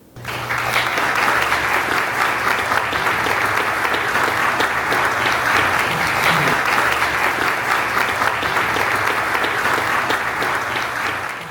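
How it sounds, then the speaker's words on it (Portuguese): A lecture audience breaks into sustained applause after a leadership and neuroscience talk, dense even clapping with a low hum underneath, continuing steadily for about eleven seconds. "eu peço uma salva de palmas"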